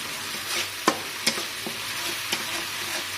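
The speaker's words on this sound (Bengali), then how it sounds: "এইটা কষে নিচ্ছে মশলাটা।" A spice paste seasoned with Kashmiri chilli powder sizzles steadily in hot oil in a pan, with sharp scrapes and taps of a stirring spoon standing out against the constant frying hiss.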